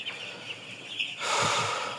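Chickens on a poultry farm, housed in a shed screened with plastic sheeting against the cold, give a few faint clucks and calls, followed by a louder burst of rustling and fluttering near the end.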